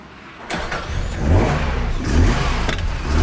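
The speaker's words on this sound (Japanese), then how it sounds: "1972年のエンジンとしたらやはり素晴らしいエンジンだと思います。" An original, unmodified 1972 Nissan Kenmeri Skyline GT-R with factory carburettors and exhaust, its engine blipped in three sharp, loud revs that swell and fall back, close by.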